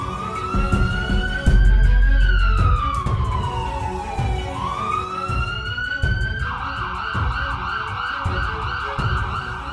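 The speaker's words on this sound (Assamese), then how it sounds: "Ambulance." An ambulance siren wails close and loud, its pitch sweeping down slowly and then rising before switching to a faster warbling pattern, over a low traffic rumble and a rhythmic thudding beat.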